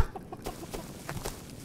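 Soft, quick clucks from a chicken in the video game Rust repeat in an uneven patter, fairly quiet and a bit distant, with light clicks and background noise.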